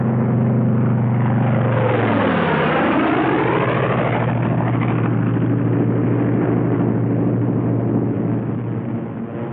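Propeller fighter planes in a loose string formation, one behind the other, pass overhead with a loud, sustained engine drone that sweeps down in pitch as they go by, then keep a steady roar.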